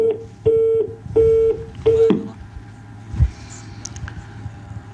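Telephone line tones on a call-in broadcast: four short, loud beeps in a row, followed by faint line noise and a few quieter electronic blips.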